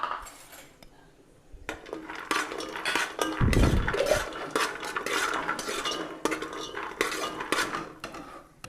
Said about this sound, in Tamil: நெய் நல்லா நமக்கு உருகுனதும் எடுத்து வச்சுருக்கிற அந்த பருப்புகள் எல்லாமே நம்ம இப்போ வறுத்துடலாம்.